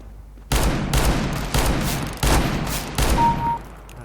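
Bursts of gunfire from Counter-Strike: Global Offensive, about five loud, dense volleys in quick succession with short gaps, up close and with no talking.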